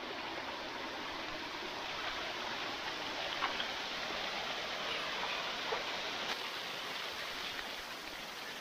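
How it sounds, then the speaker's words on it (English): Rushing water from a big waterfall, a steady broadband roar that stays even and continuous throughout with no voices. "Let's go see a waterfall, a big one."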